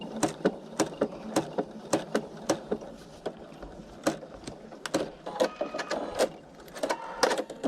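Sewing machine stitching quilt appliqué, a halting run of sharp mechanical clacks that start and stop in short irregular bursts, close and fairly quiet, with no talking.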